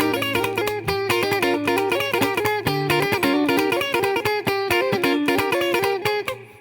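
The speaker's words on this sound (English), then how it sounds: "I'm muting everything on the guitar, but those notes I'm hitting." An electric guitar plays a rapid church bump lick with the other strings muted, producing tight, percussive choppy notes in a quick continuous rhythm, loud and close with no voice over it.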